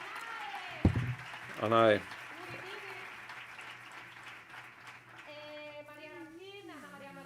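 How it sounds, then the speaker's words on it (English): An audience gives a round of applause at a tech summit, a soft, diffuse patter of clapping under a brief spoken word and other voices. "Let's have a round of applause for her and for him"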